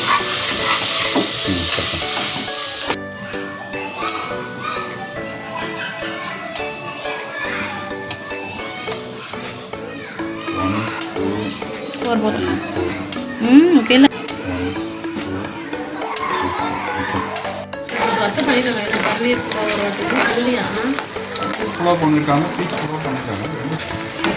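Masala with green peas and paneer frying and being stirred in a pan, a steady sizzle with scraping stir strokes running throughout, loud and close, with music playing underneath.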